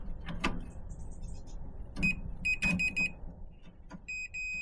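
A multimeter on continuity test beeps against a switch on a 1950s Lansing Bagnall Model A, giving a few short electronic beeps in quick succession followed by a longer steady tone, close and clear over faint background noise.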